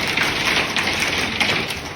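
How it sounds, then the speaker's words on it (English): Hail pelts down with strong winds during a storm, a dense, continuous patter of hard pellets striking surfaces, loud and steady with no voices. "hail began to fall, accompanied by strong winds and lightning"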